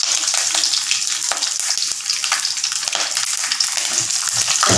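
Dried red chillies frying in oil with mustard seeds for a mixed vegetable dhal sambar, a loud continuous close sizzle with scattered crackles and occasional stirring clicks, no voices.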